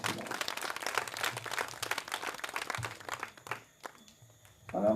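An audience at a political constituency gathering claps in a dense burst that thins out and fades, followed by quieter rustling and a brief voice at the end.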